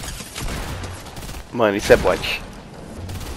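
Gunfire in the Fortnite video game comes as a few quick bursts of shots, mixed with other game sounds, while someone talks briefly over the action.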